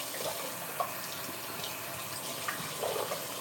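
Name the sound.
tap water running while rinsing face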